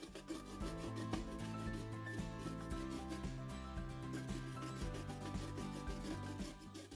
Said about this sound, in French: Ensuite, je vais les râper à l'aide d'une râpe comme ça.